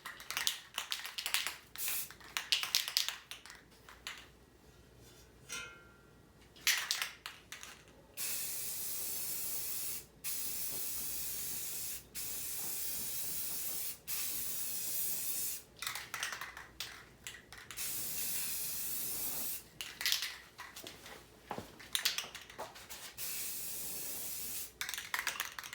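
Short and longer bursts of spray paint from a shaken aerosol can hiss onto 1986 Ford 300 inline-six engine parts, starting and stopping repeatedly with quiet gaps between passes.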